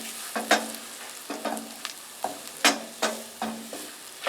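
Garlic cloves fry in a hot pan while being stirred, with a steady close sizzle broken by a series of sharp, rhythmic scraping strokes about every half second.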